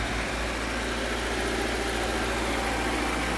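A Buraq 100 horsepower tractor engine idling, a steady, dense mechanical drone with constant vibration and no change in pitch, close and uninterrupted, no voices.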